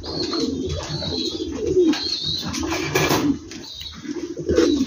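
King pigeons of the Dutch type coo steadily inside a coop, with repeated rolling low coos overlapping one another, close and fairly loud, with a few soft wing flutters and chirps mixed in.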